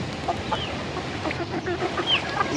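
Soft clucking from several chickens close by, outdoors in a village after rain, eating wheat and rice, over a steady outdoor background, with occasional higher chirps scattered through.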